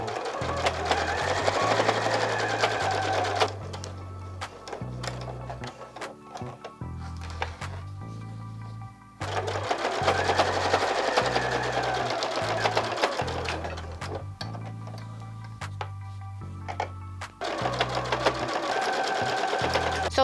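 A sewing machine stitches a ruffle down a channel onto a fabric panel for a quilted zipper bag, running in a close steady whir that stops and restarts in repeated bursts, with soft handling clicks and rustles between runs.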